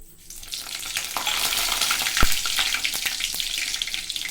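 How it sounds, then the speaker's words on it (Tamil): Mustard seeds hit hot oil and sizzle and crackle in a continuous hiss, with a sharp pop near the middle and scattered smaller spatters, close by and with no voices. "இப்போ நம்ம வந்து கடுகு சேர்த்துக்கலாம்."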